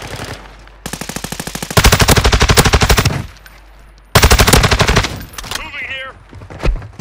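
Gunfire in DMZ comes as long, loud bursts of rapid automatic fire from close by, in two heavy strings separated by a quieter stretch, and ends with an echoing tail and lighter crackle.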